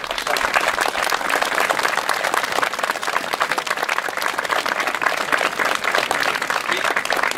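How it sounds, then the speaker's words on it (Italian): An audience at a deportation commemoration ceremony in Coreglia Ligure claps warmly for a camp survivor, a loud, continuous round of applause sustained throughout without speech. "Lo salutiamo con un grande applauso"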